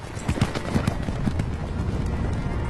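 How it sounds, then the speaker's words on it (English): Horses gallop in a fantasy battle film, a steady clip-clop of hooves running over a busy, noisy background mix. "At least they got horses now."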